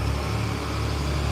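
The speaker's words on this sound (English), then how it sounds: "There's a huge moving truck going down the street." A huge moving truck rolls down a city street in the Kalorama neighborhood of Washington, a steady loud low engine drone with a constant hum and no talk.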